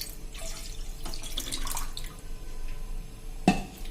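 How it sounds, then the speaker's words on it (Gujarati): Water is poured into a pressure cooker, a little more than a glassful, with a soft close splashing trickle, followed by a sharp metallic clink near the end. "એના માટે પહેલા આપણે કુકર મૂકશું અને એમાં આપણે 1 ગ્લાસથી થોડુંક વધારે એવું પાણી આપણે મૂકશું."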